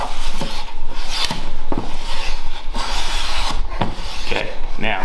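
A block of wax is rubbed against a hand plane in short, repeated scraping strokes, close and fairly loud, with a gritty rasping texture and brief pauses between passes.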